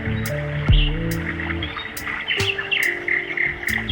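Birds chirp in a few short, bright calls near flowing wastewater in a village, over a steady low rumble, with scattered clicks in the background.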